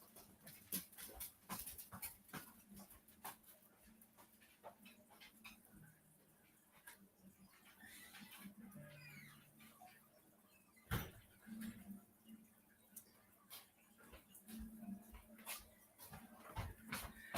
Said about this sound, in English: That dog, she will drive me crazy.